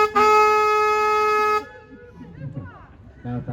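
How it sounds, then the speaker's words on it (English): A river tour boat on the San Antonio River Walk sounds its horn in one loud, steady blast lasting over a second, then quieter background sounds and a short tonal toot follow. "I'm gonna honk the boat's horn for safety reasons."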